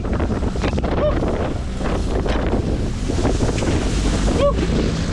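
Boat pounding through rough water with massive swells off an island near Taganga, Colombia, a steady loud roar of wind buffeting the microphone and rushing water throughout, with no talking.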